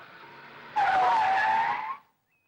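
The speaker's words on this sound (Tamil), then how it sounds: "என்னது வண்டி நின்னு போச்சு" A vehicle skids to a halt with a loud, rising tire squeal lasting about a second, ending abruptly in silence.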